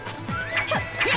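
A horse in the video game Samurai Warriors 3 gives a short, loud whinny with rising and falling squeals, brief and close amid battle noise.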